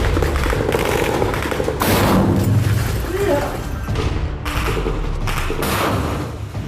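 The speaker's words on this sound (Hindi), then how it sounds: "खंडहर की छत से इन दोनों टैंकों पर आरपीजी रॉकेट दाग दिए जाते हैं, जिसमें जोरदार ब्लास्ट होता है।" RPG rockets fired at tanks from a ruined rooftop during combat produce loud, dense booming blasts and bursts of gunfire in a continuous roar, with a voice also present.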